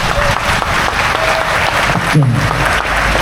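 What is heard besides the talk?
audience clapping at a stand-up comedy show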